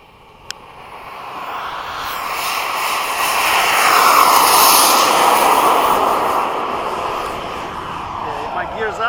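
An HSD Super Viper RC model jet flying past with its gear up at half throttle, a turbine whoosh that swells to a loud peak mid-pass and then fades as it moves away.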